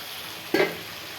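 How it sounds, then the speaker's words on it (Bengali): Water hits hot oil in a pan of frying chicken masala, setting off one sudden sharp hiss that flares up and quickly fades into a soft, steady sizzle. "এবারে আমি প্রথম এই জলটুকু দিয়ে দিলাম"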